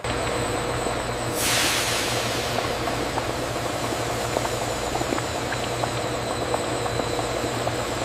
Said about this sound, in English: The massive stainless steel blades continuously stir the deep red mixture